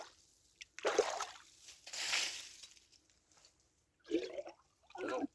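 Water from a newly dug spring meant for garden irrigation trickles and sloshes close by in several separate bursts, with quiet gaps between them.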